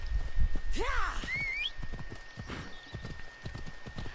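Horse in Assassin's Creed Odyssey, rhythmic hoof clip-clops up close with a loud whinny rising and falling near the start, the galloping steps continuing throughout.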